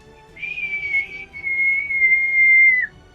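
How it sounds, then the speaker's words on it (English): A single long, drawn-out whistle rising in, then holding a steady pitch for over two seconds before dropping off at the end, heard alone at moderate loudness. "a long, drawn-out whistle as you all look up"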